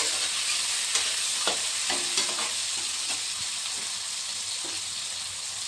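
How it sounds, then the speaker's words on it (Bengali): Chopped tomato frying in a pan with peas is stirred, giving a continuous sizzle broken by scraping, clicking spoon strokes. "তারপর টমেটো কুচিটা দিয়ে দেবো। টমেটো কুচিটা একটু নাড়াচাড়া করে"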